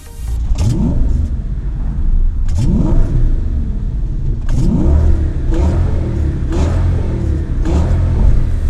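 A car engine revs hard again and again, each surge climbing in pitch before dropping back, loud and close throughout.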